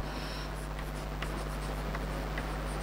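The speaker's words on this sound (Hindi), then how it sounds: "नन ऑफ दीज पूरा लिख दे रहा हूं" A marker or chalk writes on a board during a physics lecture, making faint, scratchy strokes over a steady room hum, with no talk.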